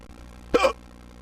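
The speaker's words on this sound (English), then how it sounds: "I think I have the hiccups now." One short, sharp male hiccup lands mid-clip, close and fairly loud, breaking a quiet background.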